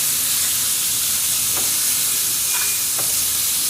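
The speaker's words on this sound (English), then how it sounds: "Next, just take the spoon and mix." Minced meat fries in oil over a medium flame, giving a steady, close hiss and sizzle while a spoon stirs it, with a few brief scraping strokes against the pan.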